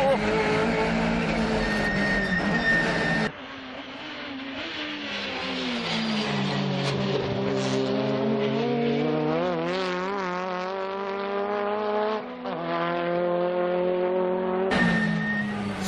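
STP race car with a turbo engine and Ebisu Special gearing, driven hard on a circuit, its engine revving loud and close with rising and falling pitch through gear shifts, under a commentator's voice.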